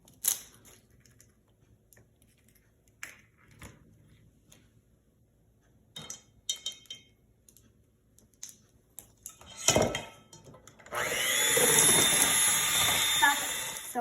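Near the end, an electric mixer whirs loudly and steadily as it beats egg and vanilla into butter and sugar, after scattered clinks of bowls and utensils and brief pauses in a kitchen.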